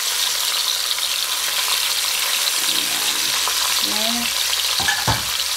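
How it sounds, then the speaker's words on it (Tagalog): Fish head from a dorade frying in hot oil, a steady dense sizzle running throughout, with a few brief clinks of a utensil and a short spoken word near the end. "Fried din natin itong kanyang head. Pero hindi ko na isasama sa pagluluto ito. Ipa-fried ko lang."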